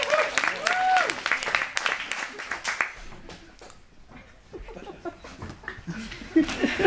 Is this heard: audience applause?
yes